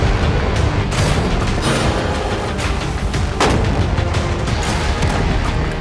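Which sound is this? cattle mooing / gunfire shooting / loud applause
gunfire shooting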